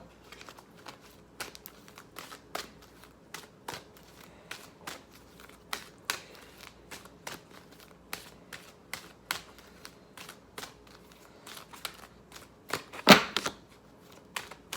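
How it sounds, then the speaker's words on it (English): A deck of tarot cards being shuffled and handled up close, a steady run of soft riffling flicks and taps, quiet with a sharper snap near the end as a card is picked, no talking. "So let me pick a card from my earth sign."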